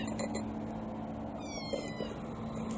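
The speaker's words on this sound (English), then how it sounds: "Get off me, cat." A cat meows once, close by, a short rising-and-falling cry against the low hum of a workshop where an old Massey Harris 44 tractor's steering is being repaired; no one speaks.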